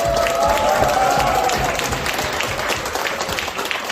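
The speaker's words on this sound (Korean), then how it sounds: "소리를 지르고 박수를 치면서 우와 시작 감사합니다." A church congregation at a New Year thanksgiving Sunday family service claps and cheers together: dense, sustained applause with shouts filling the room, loud and continuous throughout.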